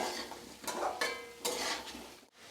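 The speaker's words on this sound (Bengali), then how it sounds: "আঁচটা আমি এখানে মিডিয়াম করে আলুগুলো ভাজছি" Potatoes frying in a pan over medium heat, with a soft sizzle and a few scraping stirs of a utensil against the pan, close and fairly quiet.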